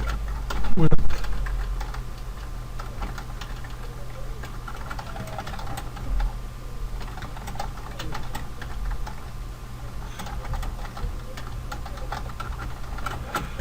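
Typing on a computer keyboard: scattered, fairly soft key clicks tap away at an irregular pace over a steady low background hum.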